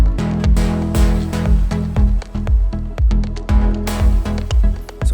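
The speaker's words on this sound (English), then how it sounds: "All the drums together with mix down effects and glue," Layered electronic drum samples with mix-down effects and glue compression play a steady, punchy groove, with deep kicks, crisp hi-hats and snare hits that stay loud and dense throughout, with no talking.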